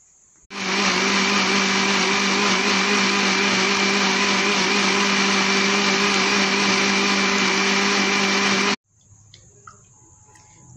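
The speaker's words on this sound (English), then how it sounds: "In the blender, you can see the beetroot and watermelon together." A blender loudly whirs through beetroot and watermelon with two glasses of water, in one steady, continuous run of about eight seconds before it abruptly stops, followed by faint clinks.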